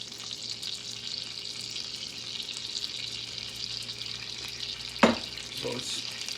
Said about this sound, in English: we're going to let the butter melt into the sugar.